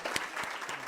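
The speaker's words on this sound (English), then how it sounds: "Let's give you another round of applause" Brief burst of audience applause at an archaeology society keynote, scattered claps in a short, fairly faint patter lasting under a second.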